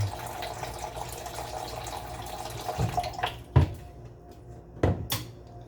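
About one and a half cups of water poured into a rice cooker, a steady wet rush under room noise, followed by a few sharp clunks from the pot and lid.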